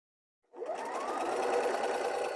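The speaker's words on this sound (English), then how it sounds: "sew on down" A sewing machine stitches the binding onto a flannel baby blanket, starting after a brief silence and then running as a steady, continuous close whir with no pauses.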